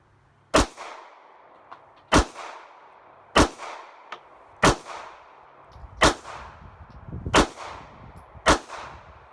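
Seven sharp pistol shots from a Sig P238 or S&W BG380 at a shooting range, fired singly at a brisk, fairly even pace about a second apart, each a loud crack with a short ringing tail and no voices.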